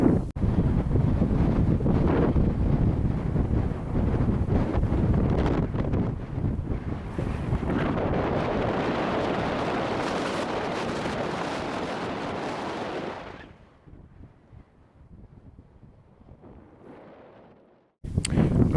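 Strong wind buffets the microphone on an open hill ridge in Scotland, a loud continuous roar that gusts for about thirteen seconds before dropping sharply to a much quieter, sheltered hush.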